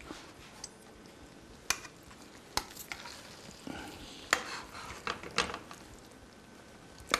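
A spoon stirring a lentil dish with fire roasted tomatoes in a pot, soft scraping with sharp clinks against the side at irregular moments, close and fairly quiet, no talk.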